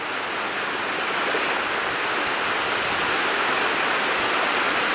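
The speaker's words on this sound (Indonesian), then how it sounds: "Jadi seperti inilah karakteristik dari ombak laut utara teman-teman ya." Continuous broadband rush of small waves washing onto a north Java coast beach, steady and fairly loud with no distinct individual breaks or voices.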